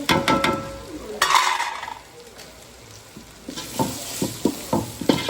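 Tomato and onion sautéing in a pan as curry and kuzhambu masala powders go in, with a spoon scraping and stirring against the pan over a soft sizzle, the strokes near and rhythmic toward the end.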